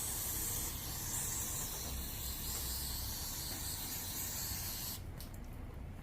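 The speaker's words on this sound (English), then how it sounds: "I'm just gonna take my bowl here and just spray all this dirt out of here." A spray can blasts dirt out of a carburetor bowl from a 25cc two-cycle weed eater, a loud continuous close hiss lasting several seconds before easing off near the end.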